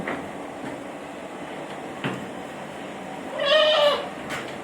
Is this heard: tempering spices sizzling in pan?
no